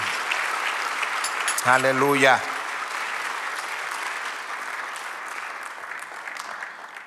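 A church congregation applauds steadily throughout, a dense, even wash of clapping, while one voice briefly calls out over it near the start.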